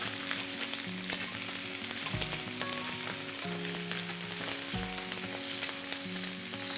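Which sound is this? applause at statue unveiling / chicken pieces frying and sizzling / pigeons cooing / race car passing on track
chicken pieces frying and sizzling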